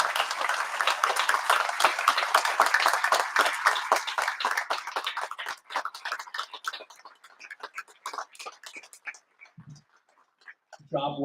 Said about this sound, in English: if you will join me in a round of applause